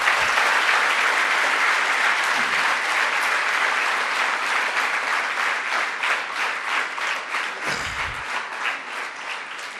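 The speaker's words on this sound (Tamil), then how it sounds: "நாம் எப்படி பாராட்ட வேண்டும் கைத்தட்டல்கள் மூலமாக" Sustained audience applause for a guest speaker at a Tamil lecture event, dense and steady clapping throughout that gradually thins slightly toward the end, with no talking over it.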